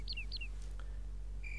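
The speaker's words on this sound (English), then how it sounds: "The birds are chirping, the crickets are cricketing." Birds in Close Combat chirp in short bright calls: two quick downward-sliding chirps, a faint note, then a sustained higher tweet, all over a low steady background hum.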